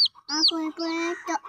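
Young chicks hatched at home give a quick series of high, bright clucks and chirps, several short calls with brief gaps, close and fairly clear.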